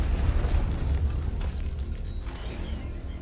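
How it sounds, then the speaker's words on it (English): A controlled explosion of an exposed bomb payload in Batman: Arkham Knight booms loudly at the start and rolls into a long, low rumbling decay. "I can use the power winch to trigger a controlled explosion."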